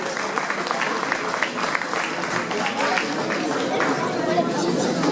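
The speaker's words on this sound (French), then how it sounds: "vous pouvez encore les applaudir" Crowd applause at a half-marathon event in Beaune, continuous clapping mixed with crowd chatter and voices throughout, sustained at a moderate, even level.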